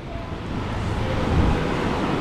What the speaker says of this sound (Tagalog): Medyo malalaki yung alon.